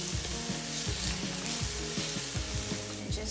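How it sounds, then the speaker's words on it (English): Onions for a vegan ginger sweet potato coconut stew fry in a pan, giving a steady close sizzle with soft crackles throughout. "you're just going to cook these onions for about 5 minutes or until soft and translucent"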